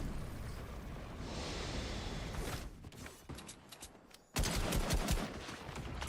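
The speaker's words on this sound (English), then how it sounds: "Shotgun." Video game shotgun fire: dense, loud bursts of blasts and crackling roll on for several seconds, then cut out to a brief quiet gap before another loud volley erupts near the end.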